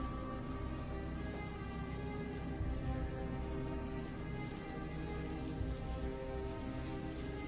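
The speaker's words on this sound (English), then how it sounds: "The rain was so heavy that flash floods occurred in the streets of the capital" Heavy record rainfall in central Athens, Greece, pours down in a steady, dense hiss, with constant splashing and no letup throughout, flooding the streets.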